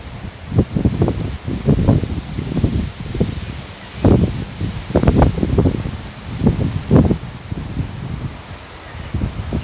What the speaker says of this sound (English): can y'all hear that wind blowing?